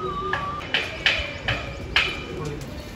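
Pigeons perched on a pole give soft calls and brief wing or chirp sounds at a rooftop setting, with a few short bursts spaced across the moment.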